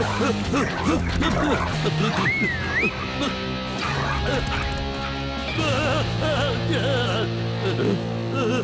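Cartoon dogs bark and yip repeatedly in a busy, loud animated scene from the Slugterra series, with sharp overlapping barks over sustained background tones.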